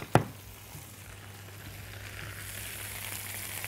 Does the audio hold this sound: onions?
yes